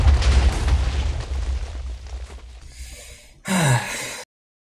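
TNT explodes from a chaos cannon in the video game Minecraft, heard as a rumbling burst that fades out, followed by a sharp, loud blast near its end.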